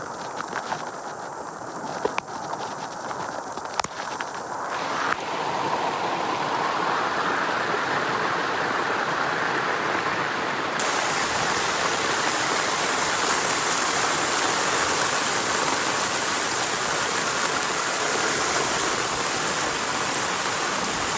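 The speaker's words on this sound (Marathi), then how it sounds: "किती पाणी यायला लागलंय." Floodwater rushing during heavy rain on a fully submerged road and into a house, a loud continuous broadband wash that swells and stays dense, with faint distant movement beneath and no talking.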